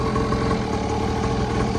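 An Xpro 50cc two-stroke mini pit bike engine runs loud and close, giving a steady, unbroken rasping drone.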